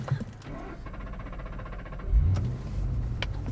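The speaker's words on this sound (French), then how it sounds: "On s'inscrit dans son virage, un quart de volant, pas plus, et on accélère à fond." A Ford Mustang Bullitt drifting on a track, its engine droning steadily and then surging louder into a hard acceleration rumble about two seconds in, heard from fairly close without speech.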